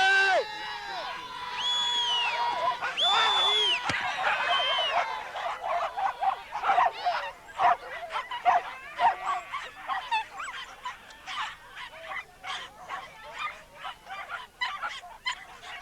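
Whippet and greyhound racing dogs bark and yelp in a noisy, overlapping chorus, with high whines and whimpers early on giving way to a steady run of sharp, clipped barks.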